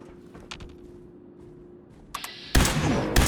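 Laser sniper rifle in a video game fires a few sharp, loud shots, one near 2.5 seconds and another near 3.2, after quieter mechanical clicks and a low steady hum.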